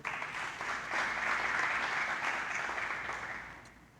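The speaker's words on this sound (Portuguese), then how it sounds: "Você pode aplaudir o Senhor" A church congregation applauds together in a sustained burst of clapping that swells, holds steady and then fades toward the end, with no one speaking.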